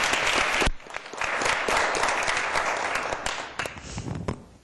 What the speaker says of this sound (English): Can we give you a round of applause?